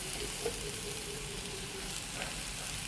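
Grated coconut stirred into a pumpkin-leaf and egg thoran in a hot pan, a soft steady sizzle with a couple of light scraping touches close by.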